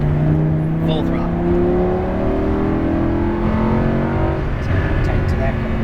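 A Lamborghini Huracan LP610-4 accelerates at full throttle, its engine note climbing steadily and loud and close from inside the car, while an instructor talks over it.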